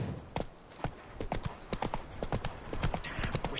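Rhythmic hoofbeats of a horse galloping in The Witcher III, a steady clip-clop cadence running throughout at close range, with no talking over it.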